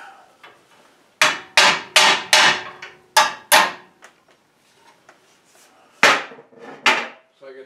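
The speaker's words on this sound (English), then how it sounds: "Hammer and a punch." A hammer striking a punch to drive out a bent pin during a winch line install, sharp metallic blows in quick clusters of two to four with short pauses, close and loud.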